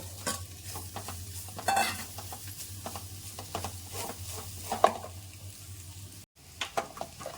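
Vegetable fried rice stirred and tossed in a hot pan over high flame, with soft repeated scraping and a faint steady sizzle, no voices.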